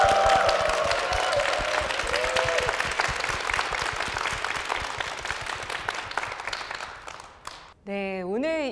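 Church congregation applause during a Korean church broadcast, a sustained wash of clapping that thins out and gives way to a brief musical tone at the end.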